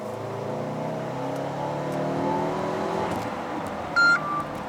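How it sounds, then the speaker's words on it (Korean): A Mercedes-Benz GLA or GLB SUV engine drones steadily with a slight swell in its variable exhaust note, and a short electronic beep sounds near the end. "얘가 가변 배기가 들어가 있다잖아요."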